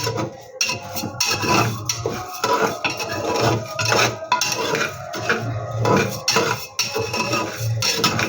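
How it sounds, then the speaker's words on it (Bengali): Salted puffed rice is stirred with a metal spatula inside a pressure cooker, producing close, continuous scraping and rattling of grains against the metal with occasional clinks, no speech. "এবার একটু খুন্তিটা একটু নেড়ে দেবো"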